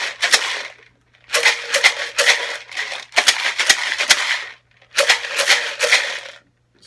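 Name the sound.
rice shaken in a lidded glass jar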